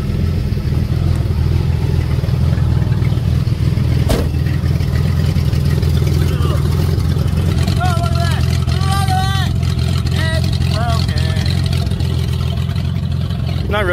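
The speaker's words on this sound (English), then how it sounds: "looks like I just got some headers now, because my exhaust kind of fell off" A Rough Country Ranger engine runs loud and raw with its exhaust fallen off, a steady heavy low drone throughout with brief rising revs near the middle and end, while a person talks over it.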